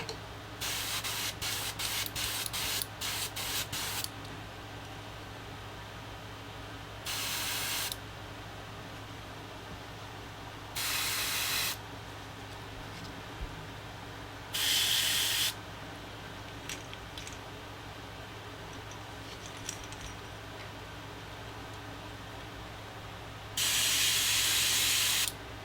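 Airbrush sprays paint onto a crappie-pattern swimbait lure in short hissing bursts: a rapid flurry of quick taps at first, then four separate longer blasts spaced several seconds apart against a quiet room hum.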